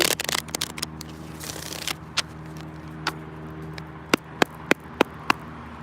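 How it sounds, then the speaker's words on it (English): Tarot cards are shuffled by hand: a dense riffling burst at the start, then scattered crisp snaps and taps ending in a series of sharp separate card clicks, close and clear with no talking. "So I'm going to shuffle again."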